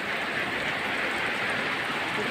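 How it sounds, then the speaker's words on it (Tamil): Heavy rain pours down steadily over hilly ground at Kazhugumalai, a dense, even hiss of downpour that stays constant and fairly loud throughout, with no voices over it. "ஆசீர்வாதமான பலத்த மழை பொழிந்து கொண்டிருக்கிறது."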